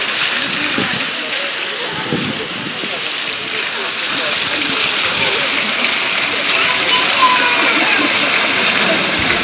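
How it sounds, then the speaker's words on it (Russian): A park fountain splashing and pouring steadily, a dense continuous rush of falling water close by, filling the whole scene. "Сзади меня очень классный фонтан"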